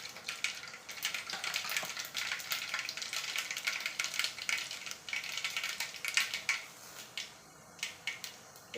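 Mustard seeds crackle and sizzle in hot oil in a pan, a busy spattering hiss with dense irregular pops that keep going steadily at moderate loudness.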